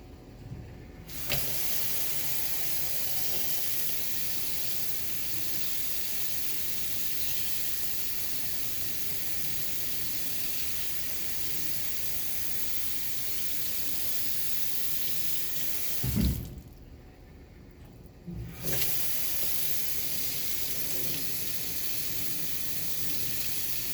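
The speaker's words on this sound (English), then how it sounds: "I'm going to rinse off my hands" Tap water runs steadily into a sink while hands are rinsed during a surgical scrub, a constant close hiss with two brief breaks where the flow is interrupted.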